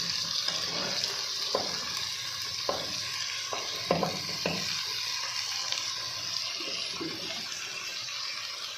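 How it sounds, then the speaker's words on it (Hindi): Cauliflower goes into a pan of potatoes frying in oil with onion, giving a soft, steady sizzle with scattered stirring clacks and scrapes, quiet and close, with no talking. "अब मैंने ना आलू को भूना है इसमें तेल में। अब ऐसा ऐसा गोभी डालूंगी।"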